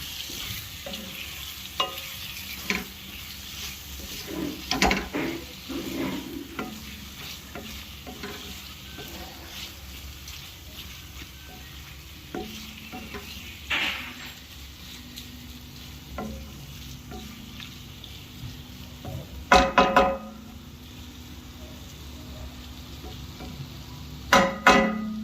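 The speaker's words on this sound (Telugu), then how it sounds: "ఇలా వేగిన మసాలాలో చామదుంపలు వేసి కొద్దిసేపు మూత పెట్టి వేగనివ్వాలి" Taro roots fry in spiced masala in a pan, with a continuous low sizzle under intermittent scrapes and taps of a spoon as they are stirred, plus sharper clacks of the ladle near the end.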